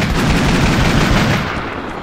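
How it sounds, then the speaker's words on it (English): Dense, continuous gunfire from the Mount & Blade Warband video game, 1860 Old America mod: rapid overlapping shots form a loud, steady roar that eases slightly near the end, with no talking. "Waste some shots."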